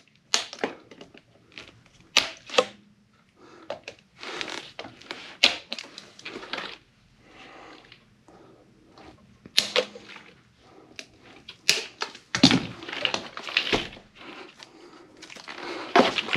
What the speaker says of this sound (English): is cut the zip ties all off.